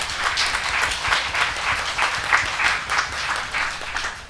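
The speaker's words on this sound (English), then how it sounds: "please give a warm welcome to Ajahn with a big round of applause" An indoor audience gives a warm round of applause to welcome a speaker at a Buddhist day-of-kindfulness talk, steady dense clapping throughout.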